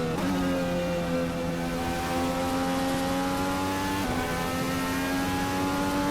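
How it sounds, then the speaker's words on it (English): A race car engine in a racing simulator game revs hard and continuously, its pitch climbing and shifting through gear changes, loud and close with no pauses. "That is a very loud engine."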